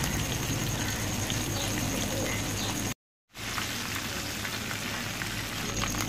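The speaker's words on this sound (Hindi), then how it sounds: "इसी तरह तमाम चिकन को फ्राई कर लेंगे।" Chicken drumsticks deep frying in oil give off a loud, dense, rain-like sizzle that continues steadily, broken once by a brief moment of silence before resuming.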